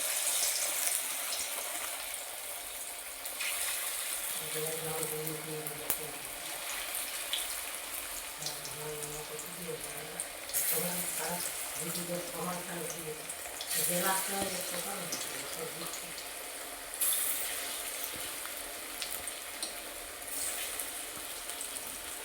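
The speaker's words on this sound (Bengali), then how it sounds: "তো চলো আমি বড়াগুলো ভেজে নিই।" Drumstick leaf fritters fry in hot oil, giving a steady close sizzle and crackle that runs throughout, with a voice talking faintly in the middle.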